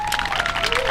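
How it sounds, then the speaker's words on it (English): An audience applauds a panel at a higher education day-of-action event, steady clapping filling the short moment at even loudness with no speech over it. "Everybody, let's just give a round of applause for our panel."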